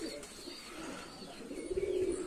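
Pigeons coo softly in a low, rolling murmur against a steady background hum, with a clearer warbling coo rising near the end.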